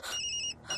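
A mobile phone rings indoors in a Telugu horror film scene, giving a steady electronic tone that breaks off briefly and then resumes, fairly quiet with no talking over it.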